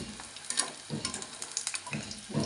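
Samosas made with munagaku leaves and potato crackle in hot oil, a steady close sizzle with brief stirring clinks and bubbling spurts, no voices.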